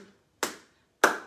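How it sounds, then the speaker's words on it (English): Two sharp claps spaced about half a second apart, close and crisp with quick decays and silence between, as a live kids' concert audience starts clapping along. "Could you help me with some clapping?"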